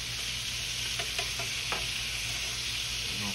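Chicken wings frying in a skillet, old school style, make a dense, loud, close crackling sizzle with a few brief pops and scrapes, and no voices.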